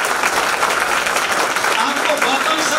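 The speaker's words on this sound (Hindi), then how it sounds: "एक बार जोरदार ताली" A seminar audience breaks into loud, sustained applause, dense clapping from many hands filling the room, with some voices mixed in.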